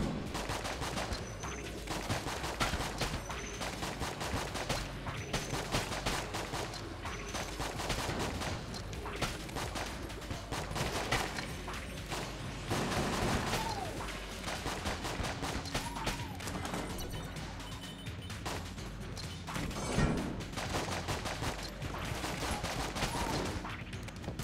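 Dense, continuous rapid gunfire from weapons in the video game Enter the Gungeon, with overlapping bursts and pops layered with game effects and no pause.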